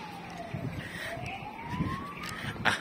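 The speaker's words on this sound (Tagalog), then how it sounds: "Ambulansya pala. Akala ko pulis." An ambulance siren wails in the distance with a slowly gliding tone, mixed into busy Macau street noise and passing traffic.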